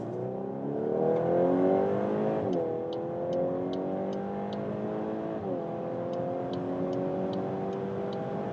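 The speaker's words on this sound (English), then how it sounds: "we can accelerate out from lower speed" A Cupra or VW car accelerates hard from about 50 km/h, its engine note climbing steadily through gear changes marked by brief dips, heard from inside the cabin.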